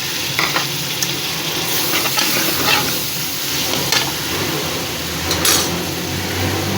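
Two chopped tomatoes hit a hot pan of frying garlic and ginger, setting off a loud, steady sizzle with brief stirring scrapes and bursts of spatter, close and without any talking.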